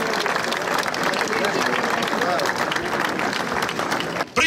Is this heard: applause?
yes